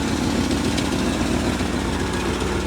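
Steady loud rumble of a 1971 Ford F350 truck engine running, with a continuous low exhaust drone close by and no talking.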